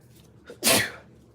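A single sharp sneeze, a quick intake followed by a loud burst, then quiet.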